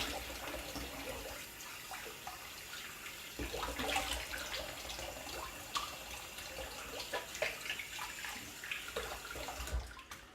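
A razor is rinsed under running tap water, a steady faint splashing stream with small clinks and knocks from the blade against the sink, heard alone without speech.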